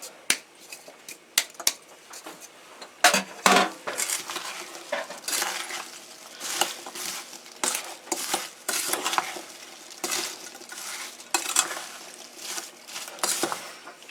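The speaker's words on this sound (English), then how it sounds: "Give this a good stir." A spoon scraping and clinking against a cooking pot while stirring a maple walnut cranberry compote, irregular metallic taps and scrapes in bursts, close and fairly clear with no talking.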